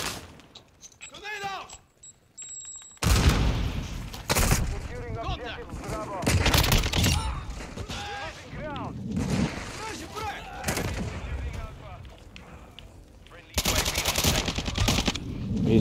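Light machine gun fire in a first-person shooter match of the Domination game mode comes as loud, rapid bursts, some long and sustained, broken by short gaps. Players talk over the gunfire.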